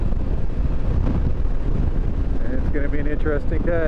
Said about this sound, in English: Wind is already pretty strong.